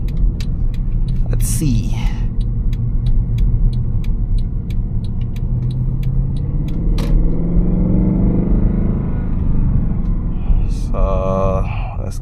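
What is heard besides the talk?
Mercedes-Benz C63 AMG W204 engine restart and rumble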